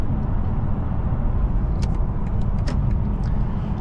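A 2024 BMW i5 M60 electric car at full throttle, heard as a steady broadband road and motor roar from inside the cabin with faint high whines, continuous and fairly even throughout, no voices.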